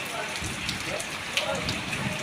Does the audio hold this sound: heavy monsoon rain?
yes